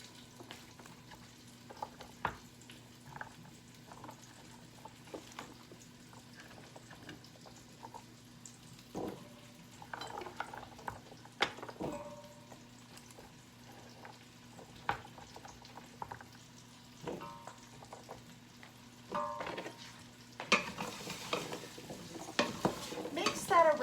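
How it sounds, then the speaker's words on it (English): Chopped squash tipped into a pot of softened onions and stirred with oil, soft scraping and clinking of a utensil against the pot with a light sizzle, close and fairly quiet, building toward the end. "So now you want to add all your squash to your pot."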